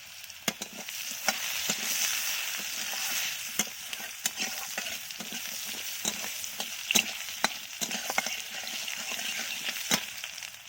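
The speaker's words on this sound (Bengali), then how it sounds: "এইবারে আমি ওই তেলে আলুগুলো ভেজে নেব।" Potatoes fry in oil left over from frying fish, a close, steady sizzle broken by frequent sharp spatula scrapes and taps against the pan.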